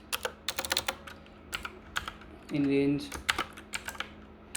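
Python code typed on a computer keyboard in quick irregular clusters of crisp key clicks, close up, with a brief louder thump near the middle.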